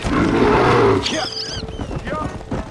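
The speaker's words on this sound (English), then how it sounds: "Whoa. It's a bear." A bear in the Red Dead Redemption video game lets out a loud, rough roar lasting about a second, followed by galloping hooves and a horse's whinny while people talk.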